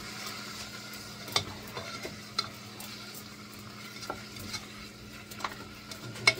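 Pork stirred and frying in a pan, a continuous soft sizzle with scattered sharp clinks and scrapes of a utensil against the pan, close and fairly quiet.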